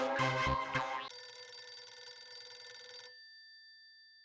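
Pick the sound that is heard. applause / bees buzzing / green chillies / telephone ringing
telephone ringing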